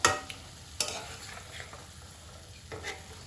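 Pieces of tilapia fish stirred gently into masala in a pan, with a few soft scraping strokes over a quiet sizzle of frying.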